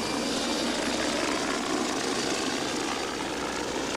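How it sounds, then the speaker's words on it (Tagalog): A Philippine Coast Guard helicopter flies during a search at sea, its engine and rotor making a steady, dense roar that holds evenly throughout. "Kasama sa paghahanap ang Philippine Coast Guard helicopter na ito."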